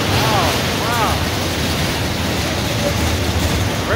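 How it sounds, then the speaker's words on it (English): A loud, steady roar of an old roller coaster rattling along its track at Star City in the Philippines, broadband and continuous, with faint voices and squeals in the background. "It's an old roller coaster."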